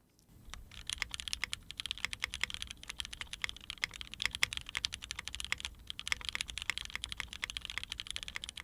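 Rapid, continuous clacking of keys on a Qwertykeys x Cub Studios Cub 65 mechanical keyboard, steady and close, with bursts of quick keystrokes and no talking.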